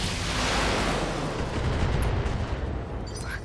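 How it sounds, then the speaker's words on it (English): Mech weapons in the BattleTech video game fire on a target, a sustained loud roar of overlapping explosive blasts and shots that fills the whole stretch and tapers slightly toward the end. "Firing on target."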